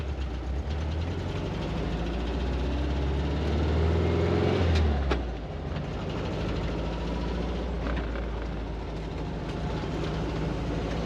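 Air-cooled engine of a 1973 VW Thing convertible pulling away in first gear, a steady loud low drone that swells around the middle and eases off, with road rumble and no talking.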